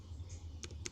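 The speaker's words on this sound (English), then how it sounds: "Then you can type the JKL." Three or four quick, faint key clicks on a computer keyboard being fixed for typing wrong characters, close by over a low steady hum.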